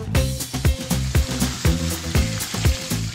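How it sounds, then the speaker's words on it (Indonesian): Sunda-style food frying in hot oil, a steady loud sizzle with rhythmic crackling bursts, close up and with no talk over it. "Langsung kita goreng."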